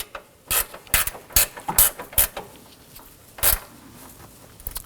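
A ratchet clicks in short bursts as bolts are snugged down on the engine cooling fan assembly of a 2018-2024 Toyota Camry 2.5L, with close, crisp, irregular pawl clicks separated by brief pauses.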